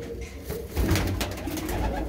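A female pigeon from Ustad Binder Kingre Wale's flock gives a low, throaty coo that swells midway, close and fairly loud, with no voices.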